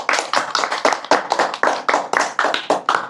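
A small audience claps at a religious talk in rhythmic, unison bursts of sharp, loud claps, close and evenly paced, with no voices over them.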